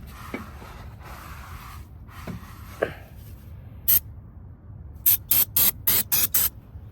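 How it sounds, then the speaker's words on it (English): Brake cleaner is sprayed onto a new brake caliper from an Audi Q7 front brake job, a single hiss followed by a rapid series of short, sharp aerosol bursts over quiet workshop background. "I'm gonna go ahead and put some brake cleaner on it as well and clean it the same way on both sides."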